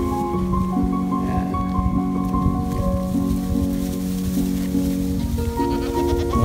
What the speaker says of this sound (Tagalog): Ito kami sa farm. Marami ng goat.